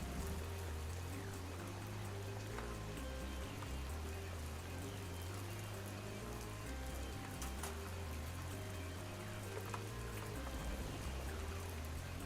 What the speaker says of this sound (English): The rain has just gotten progressively worse.